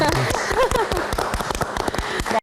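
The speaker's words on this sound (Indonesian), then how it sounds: "Boleh tepuk tangan dulu nggak?" Audience applause at a Q&A session, a dense patter of many hands clapping at close range with voices mixed in, cutting off abruptly at the end.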